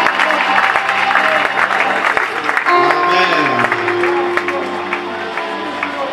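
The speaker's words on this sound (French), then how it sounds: "Tenez-vous debout, nous acclamons très fort pour eux." A church congregation applauds loudly and steadily during a worship service, dense clapping filling the room with cheering voices and a preacher's talk mixed over it.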